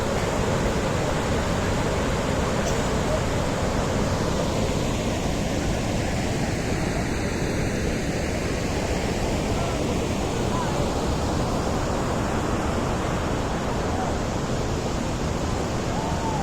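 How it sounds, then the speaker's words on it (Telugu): Chitrakote waterfall in Bastar district roars as a dense, unbroken rush of falling water, steady and loud for the whole stretch with no break. "పెద్ద వాటర్ ఫాల్ ఇది"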